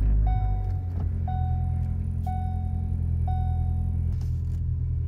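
A Ford car engine idles with a steady low rumble, while a soft electronic chime beeps four times at even intervals of about one second over it.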